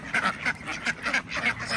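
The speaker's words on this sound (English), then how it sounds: "I'm right next to a lake, so here comes my duck friends" Ducks quack close by near a lakeside house, a quick run of about six to eight nasal calls in an uneven rhythm, with no talk over them.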